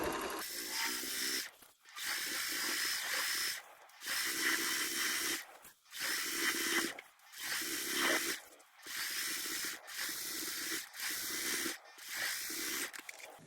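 A sewing machine runs in bursts while stitching a pillowcase seam, a rapid mechanical whirr lasting a second or two each time, repeated about seven times with short silent pauses between runs.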